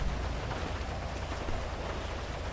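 Steady rain hisses down in GTA V LSPDFR, a dense, constant wash of drops with a low rumble underneath and no other sounds.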